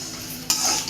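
Masala for a spicy bitter gourd (karela) curry being stirred and roasted in a pan, a brief scrape and soft sizzle that grows louder partway through, with no talking.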